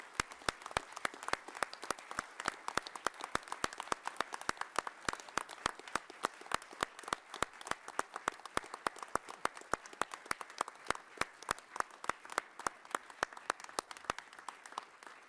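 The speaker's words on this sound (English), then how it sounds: "So let's give Mike Goldstein a big round of applause." Sustained audience applause at a lecture event, dense rapid clapping from many hands held steadily for about fifteen seconds at moderate level, with no speech over it.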